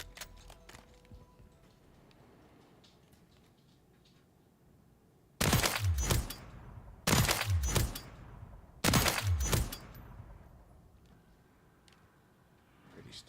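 Three loud, broadband bursts of gunfire at a video game firing range, each a quick cluster of shots with a decaying tail, spaced about 1.7 seconds apart after a stretch of quiet background.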